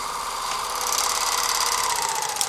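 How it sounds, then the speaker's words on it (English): A serger stitches down the end of a garment cuff, its fast, steady mechanical whir running continuously and fairly close, with a slight rise in intensity partway through. "You can even sew the ends of your cuff with your serger. Just serge down one and the next"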